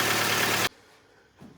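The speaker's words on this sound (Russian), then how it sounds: "все-таки мне кажется, это поршня побрякивают" A Mitsubishi Lancer X with a 4A91 engine runs with rattling pistons, a loud, brief burst of engine noise that cuts off abruptly, followed by near quiet and a faint low knock.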